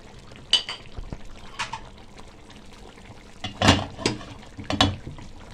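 A spoon stirs tomato sauce and carrots in a cooking pot, giving scattered wet scrapes and metallic clinks against the pot in short bursts close by.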